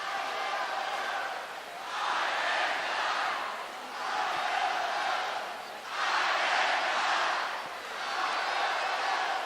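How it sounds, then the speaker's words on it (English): Volleyball crowd at Huff Hall during an Illinois match against Penn State roars and cheers in sustained waves, loud and continuous, swelling and dipping every couple of seconds with no clear talk on top. "The crowd at Huff Hall certainly getting into it here"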